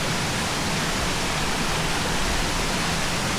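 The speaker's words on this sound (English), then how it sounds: "You got a nice little waterfall right there too, coming down between these two rocks." Small waterfall in Murray Canyon near Palm Springs, spilling between two rocks into a deep pool, giving a constant close rushing hiss of falling water with no voices.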